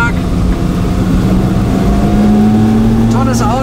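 A warm 1959 Ferrari 250 GT Pininfarina Coupé engine runs steadily while driving on a country road, a loud close rasping drone that rises slightly in pitch, with someone talking over it.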